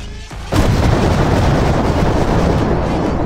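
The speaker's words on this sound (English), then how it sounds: "About to airstrike him." A loud airstrike explosion in the mobile shooter Tacticool erupts after a brief lull and becomes a sustained, heavy roaring rumble that fills the whole stretch with no pause.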